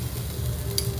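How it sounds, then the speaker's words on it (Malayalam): Onions and mushrooms sauté in a pan with a steady, soft sizzle and a faint scrape of stirring, heard close and without talk. "ഇത് ശരിക്കും നല്ല ഒരു ഗോൾഡൻ ബ്രൗൺ ആകുന്നത് വരെ വഴറ്റുക."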